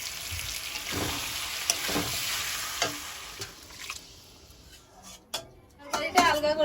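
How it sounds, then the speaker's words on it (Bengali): Water poured into frying chicken curry, a hissing sizzle with splashing and stirring that dies down toward the end, with a voice speaking over it. "চিকেন থেকে তেল ছেড়েছে এবারে জল দিয়ে দেবো"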